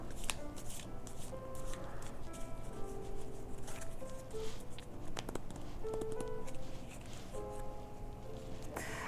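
Tarot cards are handled, shuffled and drawn during a reading, making soft papery slides and flicks close by over a steady low background hum.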